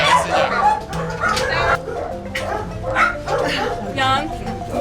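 Several dogs yip, whimper and bark in quick bursts close by, mixed with people talking over them.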